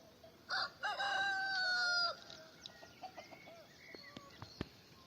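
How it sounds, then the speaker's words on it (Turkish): A rooster crows loudly once, a long rising and falling call, followed by scattered soft clucks and a few sharp chirps in a quiet farmyard. "orada kuş kovalıyor"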